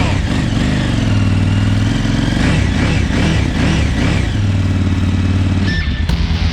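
A KTM 950 LC8 Adventure motorcycle engine runs steadily at close range, with a rough, throbbing idle and a few brief rises in revs, plus some mechanical clatter.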